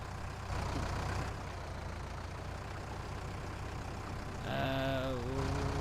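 A small Fiat tractor in Farming Simulator 19 labors for traction, its engine droning steadily in a low rumble, then rising louder near the end with a whining, wavering pitch as it strains.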